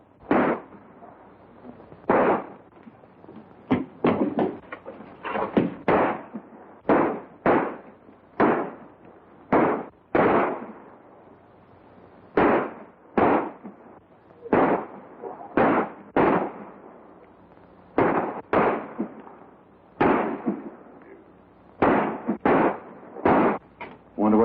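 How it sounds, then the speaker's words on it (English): Gunshots in a Western shootout, sharp single cracks fired one after another in irregular bursts with short gaps, loud and close over near silence. "Wonder what all the shooting's about."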